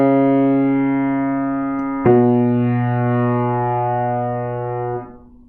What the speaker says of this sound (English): This is a major second descending.